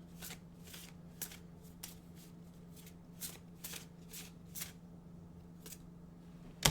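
A deck of oracle cards is shuffled by hand in a quiet room, giving a series of soft, crisp riffling bursts spaced irregularly over a low steady hum and ending with a sharper card slap.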